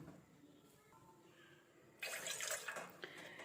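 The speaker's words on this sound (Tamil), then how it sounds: "இப்போ அடுப்பில் ஒரு பாத்திரத்தை வச்சு இருநூறு எம்எல் நம்ம வந்து தண்ணீர் ஊற்றிக்கலாம்" About 200 ml of water is poured into a cooking pot on a stove, a short splashing rush that starts partway through after a quiet stretch and runs steadily to the end.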